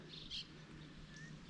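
Birds nesting under a bridge along a creek give a few short, faint chirps over a low, steady background hum, heard briefly and from a distance.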